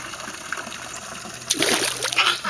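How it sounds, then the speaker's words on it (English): A hand dips into a small pond where catfish are being fed. A faint trickle gives way halfway through to a sudden burst of close splashing and sloshing. "Dip it in the water."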